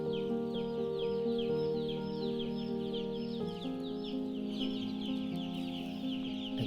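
Broiler chickens in a lit farm shed cluck and chirp continuously, many birds close together, with a steady mechanical hum underneath and no talking.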